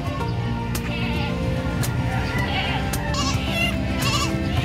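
Goats bleating at the San Carlos livestock market in Pangasinan: repeated overlapping bleats, some near and some farther off, over a loud, busy crowd of market noise and distant voices.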